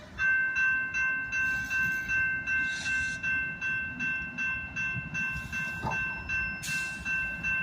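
A switcher locomotive rolls past in a rail yard, its steady engine drone and high tonal whine holding throughout, with rhythmic pulsing thumps of wheels over rail joints and a couple of brief hissing bursts, loud and close.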